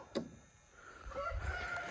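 Chickens and a rooster at a coop by a garage in the early dark make faint brief clucks and a short crowing call, quiet and close within two seconds.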